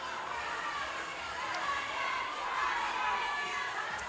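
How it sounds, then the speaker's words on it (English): Spectators cheer and shout at the Burn Boot Camp Athlete Games fitness competition, a dense sustained crowd roar with children's shouts and chatter mixed in, steady and moderately loud. "We can hear the cheers from the crowd."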